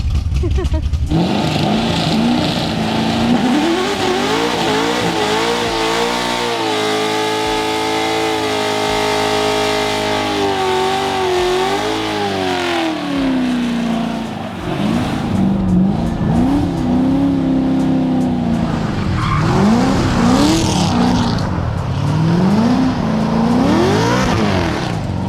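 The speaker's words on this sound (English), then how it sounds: "let's do a celebratory burnout" A 700 hp naturally aspirated Corvette Z06 does a burnout: the loud engine revs hard and holds, rising and falling in pitch, with tires squealing as it roars on.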